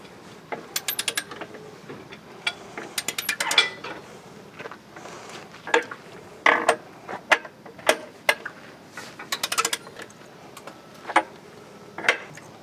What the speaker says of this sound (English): This is your torque wrench. Okay. Yes. Torque them at 50 foot-pounds.